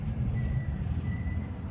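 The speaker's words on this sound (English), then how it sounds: "there's the sound of a truck in the background" Low, steady rumble of a truck idling or passing in the background, continuous across the moment, with a faint high tone above it and no talk.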